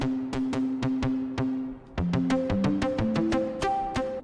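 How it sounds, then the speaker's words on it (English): Percussive hits from a Sonicware Liven Ambient Ø synth with a squiggly pitch sweep and feedback, a run of sharp evenly spaced strikes followed by a second phrase with gliding, wobbling pitched tails, close and clear. "can hear that sort of squiggly sound. That's our pitch sweep."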